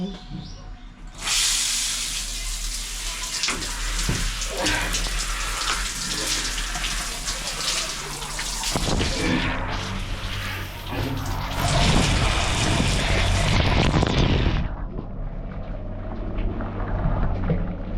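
A shower runs in a home bathroom as a steady, close broadband hiss of spraying water, shifting in tone as the stream hits different surfaces, then thinning near the end; a voice is faintly present.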